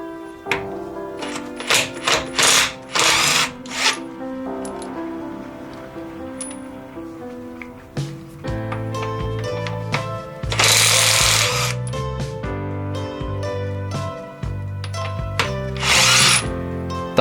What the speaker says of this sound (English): And now over to the Parkside impact, using the same setting at 400 Newton meters.